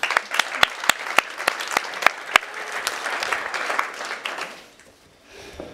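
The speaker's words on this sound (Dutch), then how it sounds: "mag ik een hartelijk applaus voor Jan Drost." An audience at a talk on technology and love applauds a guest author, with sharp individual claps standing out at first among a crowd's steady clapping that gradually fades away to near quiet.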